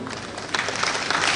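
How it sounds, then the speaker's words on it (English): An audience at a Kenyan primary school heads' conference in Mombasa bursts into applause, the clapping starting moderate and growing louder and denser midway through the short burst. "please clap for my National Chairman"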